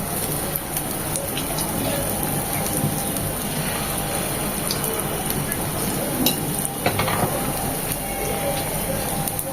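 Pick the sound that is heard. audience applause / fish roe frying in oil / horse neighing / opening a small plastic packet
fish roe frying in oil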